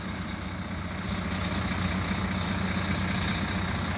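A 9.2 litre DAF PR diesel engine in a 2013 Irizar i6 Integral coach, paired with a ZF Ecolife automatic gearbox, idles with a steady low rumble and constant hum, unbroken and with no voices.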